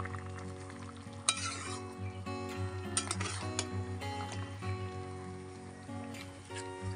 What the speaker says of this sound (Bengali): তো সেই জন্য আমি এখানে মাটন কষাটা বসিয়েছি, মাটনটা বসিয়েছি।